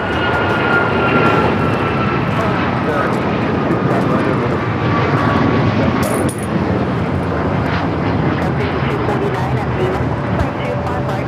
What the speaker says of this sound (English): That is Alaska Airlines 1398 taking off to Mazatlan on the MAX 9